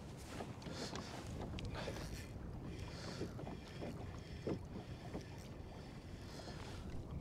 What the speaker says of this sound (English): I'm going to turn this kayak